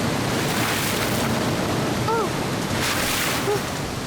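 Steady rushing water of a waterfall in a cartoon jungle, a broad continuous roar filling the whole clip with no pauses, and a brief bird-like chirp sounding faintly over it.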